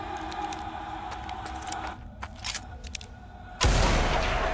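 Gunfire in the first-person shooter Blood West, a few scattered shots over a quiet ambient bed, then one loud, close blast that lingers with a heavy rumbling tail.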